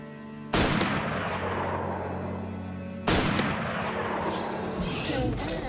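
Two loud gunshots blast in a dinosaur survival game set in an abandoned town, the first about half a second in and the second near three seconds, each followed by a long fading echo.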